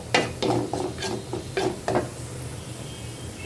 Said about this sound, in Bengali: জিরা ফোড়ন দিলাম তারপর হচ্ছে রসুন ভেজে নিচ্ছি এখন হচ্ছে বাগার দিয়ে দেব